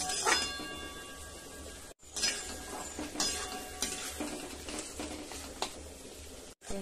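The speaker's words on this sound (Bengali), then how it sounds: "পেঁয়াজগুলো এবার আমি ভালোভাবে ভেজে নেব" Onions fry in oil in a pan, a soft steady sizzle broken by scraping stirs and occasional clinks of a utensil against metal, close and fairly quiet, with two brief silent cuts and no talking.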